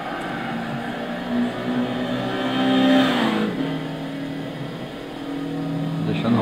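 Lotus Esprit GT V8 3.5 32V biturbo from 2002, driven in the Gran Turismo 6 racing game, roaring steadily with an engine note that swells and rises around the middle, close and loud, with a voice talking over it.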